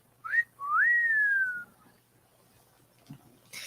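A person whistles a short rising note followed by a longer sustained, gliding tone that slowly falls, clear and close, then quiet room noise with a small thump.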